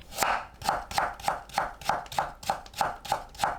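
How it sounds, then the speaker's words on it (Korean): A knife taps rapidly and steadily on a cutting board, finely julienning a carrot, about eleven quick even strokes, close and crisp with no talking. "당근을 곱게 채 썰어줍니다."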